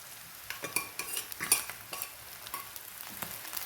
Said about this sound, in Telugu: ఈ కడిగి పెట్టుకున్న ఎండు రొయ్యలు వేస్తున్నాను.